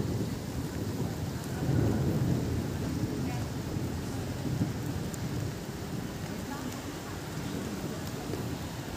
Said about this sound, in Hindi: कितनी सुंदर बारिश हो रही है।